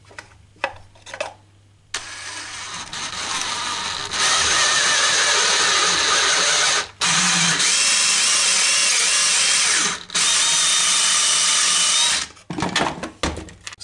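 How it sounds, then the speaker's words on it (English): A power drill with a cone bit whines loudly through an electrical back box enclosure in several long bursts, separated by short pauses and handling clatter. "I'm using a cone drill bit"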